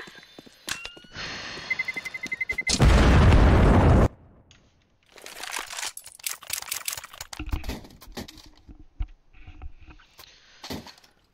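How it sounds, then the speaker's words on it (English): A CS:GO flashbang grenade goes off as a loud, harsh burst lasting over a second amid other game clicks and footsteps, followed by scattered in-game noise. "I'm throwing a flashbang."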